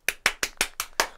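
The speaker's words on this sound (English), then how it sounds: "Each and every one of you clapped." Six sharp, evenly spaced claps from an audience voting on a name, each a crisp broadband burst about a fifth of a second apart, close and distinct, with no talking.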